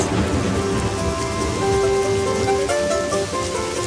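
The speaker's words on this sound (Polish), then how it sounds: "Jak miło jest przez okno patrzeć na deszcz." Rain falling in a cartoon scene, watched through a window, a steady dense patter of raindrops on surfaces with soft tonal music running underneath and no speech.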